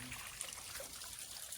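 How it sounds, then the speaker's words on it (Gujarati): Hillside runoff trickles down a slope near the old Navlakha temple at Ghumli, a faint, steady watery patter heard at low level with no voices. "પાણી આમ જતું જાય છે જો."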